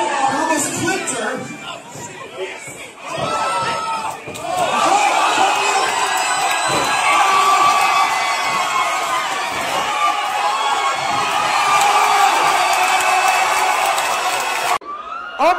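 A wrestling crowd in Oakland roars and cheers, building to a sustained, loud wall of shouting and whooping that cuts off abruptly near the end.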